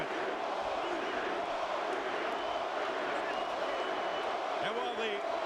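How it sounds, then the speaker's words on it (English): A sellout arena crowd at a Cory Spinks boxing match roars and chants continuously, a dense, distant wall of voices with rhythmic swells. "while the sellout crowd chants Cory, Cory"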